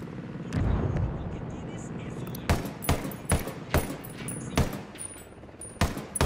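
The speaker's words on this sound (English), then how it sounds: "Shots fired." Gunfire in the video game Ghost Recon Wildlands: sharp, loud shots cracking out singly and in short irregular bursts over a rumbling helicopter-like background, with voices speaking in between.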